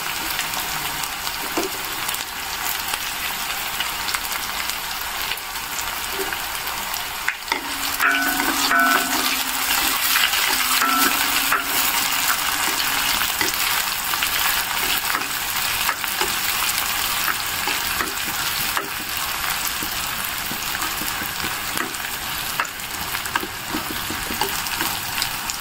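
Onion and dried red chillies frying in a pan for Kerala-style Onam sambar, a steady loud hissing sizzle throughout, swelling briefly as the ingredients are stirred.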